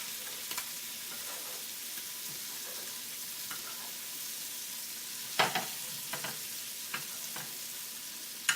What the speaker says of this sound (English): right before I pull them off, I like to give them a little baste.